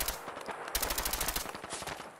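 Rapid machine gun fire from Gunners raiders in the Fallout 4 video game, dense bursts of sharp repeated shots rattling continuously, with no speech.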